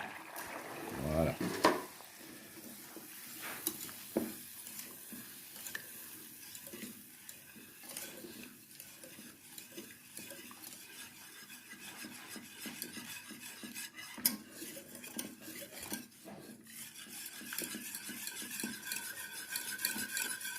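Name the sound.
stirring chocolate into melted butter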